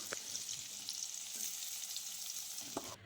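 Carrots and yardlong beans fry in oil in a wok, giving a quiet, steady sizzle with a few soft scrapes and taps from stirring.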